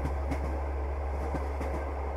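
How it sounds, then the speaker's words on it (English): A train rumbles along with a steady low hum and soft periodic rail clicks, steady and close with no voices. "the train is slowing down, I think we're getting close"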